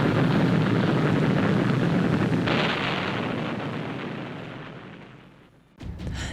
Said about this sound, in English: bombs, rockets, and small caliber ammunition continued to explode with increasing violence